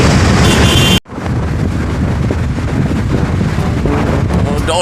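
Strong wind buffets the microphone outdoors in a continuous loud roar with rumbling gusts, briefly cut off once by a short gap before the blowing resumes unchanged.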